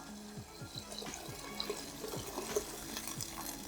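Steady splashing of water poured for Korean ramen sauce, fairly quiet and continuous, with faint clinks and a low background hum.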